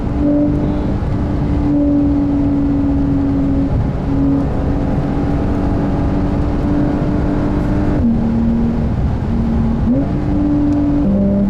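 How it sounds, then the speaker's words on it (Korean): A new Porsche 911 992 Carrera 4S engine revs hard at high RPM, a loud continuous rear-engine howl whose pitch holds, dips and climbs again through gear changes for the whole stretch. "역시 고 RPM에서 놀아야 이 사운드가 살아나."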